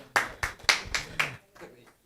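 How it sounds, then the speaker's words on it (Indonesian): A handful of sharp, distinct hand claps from a small audience at a Nahdlatul Ulama gathering, about five evenly spaced claps followed by a fainter trailing one, close and fairly crisp. "Tepuk tangan untuk beliau"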